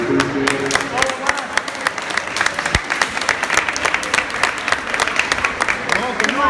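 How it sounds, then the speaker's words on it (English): Applause for amateur boxers from a crowd at a boxing event, dense sustained clapping throughout with scattered voices mixed in. "Let's give the boxers a round of applause"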